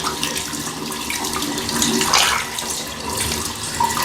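Tap water runs steadily over soapy hands at a sink, a continuous close hiss and splash that swells slightly midway and carries on without speech.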